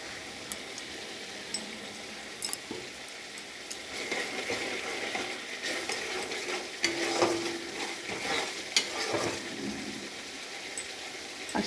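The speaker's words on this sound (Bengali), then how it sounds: "দিয়ে ভালো করে নাড়াচাড়া করব" Potato curry with turmeric and ginger fries and is stirred in a pan, a soft continuous sizzle broken by scraping strokes and light ticks of the spoon, close and moderately quiet.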